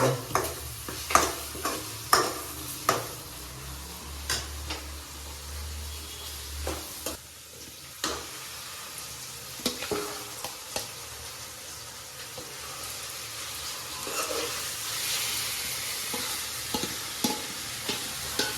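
Marinated prawns for a Telugu-style prawn curry fry in a pan, a steady sizzle broken by frequent scraping stirs and clacks of a spatula, close up with no talking.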